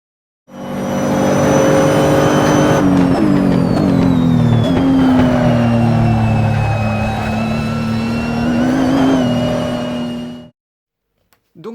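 A car on a rally circuit engine note sustained and loud, shifting pitch as it brakes hard and turns into a corner, with a continuous tonal whine running throughout for about ten seconds before cutting off.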